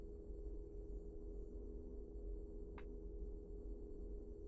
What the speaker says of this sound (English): they're like humming that is obviously from the Normandy